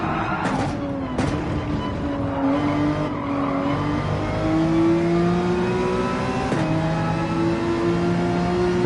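A racing car at Fuji in Gran Turismo 7 roars loudly up through the gears, the engine pitch rising and dropping as it shifts, with a brief squeal under braking.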